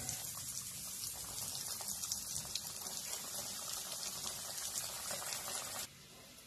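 Bhakarwadi deep-frying in hot oil, a dense, steady bubbling hiss heard close and unbroken until it drops off abruptly near the end, with no talking.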